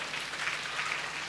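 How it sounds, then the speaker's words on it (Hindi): A church congregation claps together in praise during a Sunday service, a dense, steady wash of applause filling the short moment without pause. "ताली बजा के प्रभु की स्तुति करेंगे"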